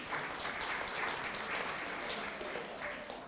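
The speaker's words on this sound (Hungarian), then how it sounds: "Azt hiszem, hogy egy tapsot megérdemelnek." Audience applause at a women's day literary afternoon with music, a dense, steady clapping from a hall crowd lasting throughout, fairly even in loudness.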